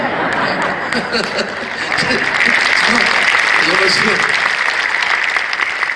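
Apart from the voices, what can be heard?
audience applause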